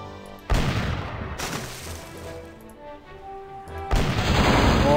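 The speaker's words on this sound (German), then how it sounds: "Ja, volle Breitseite." A full ship broadside of cannon fire in the pirate game Monkey Island 3: two heavy, crashing volleys of booming blasts about three seconds apart, each trailing into a rumbling, rattling decay.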